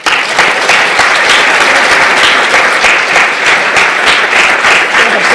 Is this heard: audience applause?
yes